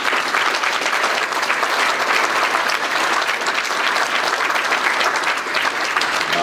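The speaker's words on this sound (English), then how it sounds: "Let's give them a big round of applause" A large audience at a taekwondo championship event gives loud, sustained applause, a dense and even wash of clapping close by throughout.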